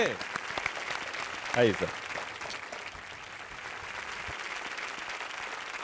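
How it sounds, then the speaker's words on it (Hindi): An audience claps steadily through the whole stretch at a televised Surya Shashthi puja gathering, with a brief louder swell near the middle. Someone speaks over the applause. "जोरदार हाँ, तालियां आपकी ओर से"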